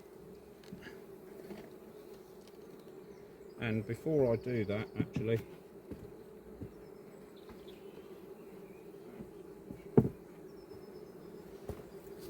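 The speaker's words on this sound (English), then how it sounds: "Lots of bees on the roof." Honeybees hum around an apiary hive, with a faint steady drone and a louder buzzing burst as a bee passes close, while someone speaks briefly.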